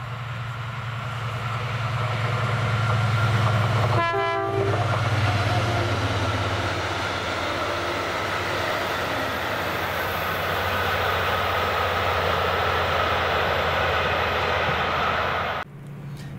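A delayed freight train on the Port of Warrington to Aberdeen Waterloo run rumbles past on a Scottish line, a loud, steady roar with a deep hum that holds for about fifteen seconds before dropping off abruptly.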